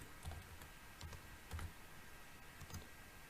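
Faint, sparse keystrokes on a computer keyboard: a handful of separate soft clicks spaced about half a second apart over a quiet background hiss.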